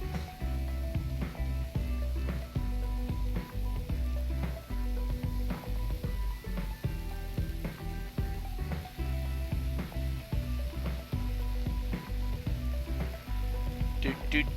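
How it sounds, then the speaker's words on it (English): Fries crackle and sizzle in hot oil in a kitchen fryer, a dense continuous bubbling hiss over a steady low hum of equipment, with no pauses. "now we're going to throw our fries in there"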